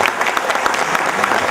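Audience at a health product testimonial event applauding, a short burst of dense, close clapping throughout.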